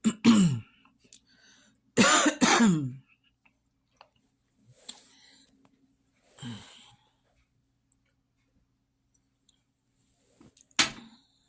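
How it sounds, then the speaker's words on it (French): A harsh cough with throat clearing comes first, then a second burst, followed by faint scattered noises and a final sharp cough in a quiet room. "je m'excuse, les amis. J'ai toussé."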